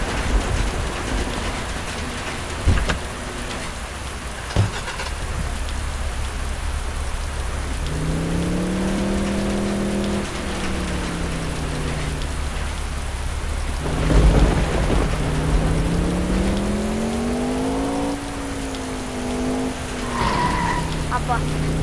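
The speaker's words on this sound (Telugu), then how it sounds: "ఈ రైన్ ఆపడం. దీన్ని మనం కంట్రోల్ చేయడం రాదు" Steady rain with rumbles of thunder in a driving video game, continuous and loud, under a rising and falling engine tone and occasional heavy thuds.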